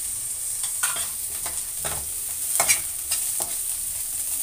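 Curry leaves and coriander sizzle in a hot pan for aval upma, a steady close hiss of frying with intermittent stirring scrapes and small crackles, no talking.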